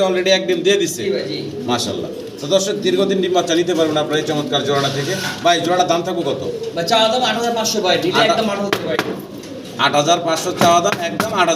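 Dragon homer pigeons coo nearby in soft repeated calls while someone talks loudly over them throughout, at a pigeon farm.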